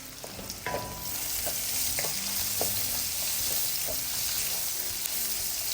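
Onion and garlic sauté in a pan for seafood miki guisado, hissing in a continuous sizzle with occasional utensil scrapes and taps as they are stirred, close and steady with no talking.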